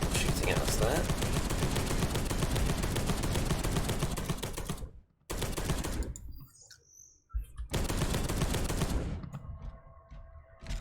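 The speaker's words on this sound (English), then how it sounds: "Got more people shooting at us there." Enemy gunfire in the Space Hulk: Deathwing game: dense, continuous bursts of rapid shots that fill most of the clip, broken by two short lulls and dropping to a quieter tail at the end. A voice talks over the shooting.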